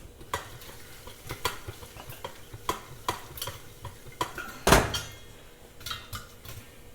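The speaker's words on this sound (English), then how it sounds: "as you can hear it, our popcorn's starting to pop" Kettle corn in a pot as the kernels start to pop, scattered sharp pops and one louder burst over the scraping and rattling of the pot being shaken, fairly quiet and close.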